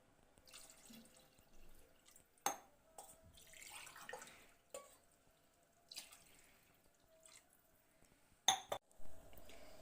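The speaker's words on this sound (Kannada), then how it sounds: "ಇವಾಗ 2 ಗ್ಲಾಸ್ ಅಕ್ಕಿಗೆ 4 ಗ್ಲಾಸ್ ನೀರು ಹಾಕ್ಕೊಳ್ತಾ ಇದ್ದೀನಿ" Water pours and splashes into a pot of rice in short bursts, four glasses for two of rice, with drips and a few light clinks of metal in between.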